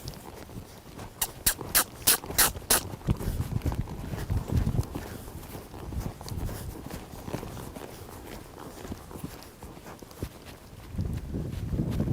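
A horse lopes down a hill, hooves drumming in quick rhythmic thuds at close range, then fading to softer, irregular footfalls and rustling, with no talking.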